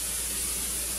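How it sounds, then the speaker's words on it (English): Cooking spray hisses from an aerosol can onto a skillet heating on medium power, one continuous bright airy burst lasting about a second and tapering off at the end. "We're going to coat it with some cooking spray, which I'm going to do right now"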